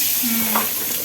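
Fish frying in a pan at home, giving a steady close-up sizzle with a soft passing tone partway through.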